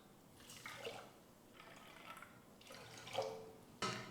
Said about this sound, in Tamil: ஒன்றரை கப் தண்ணி சேர்த்துக்கிறேன்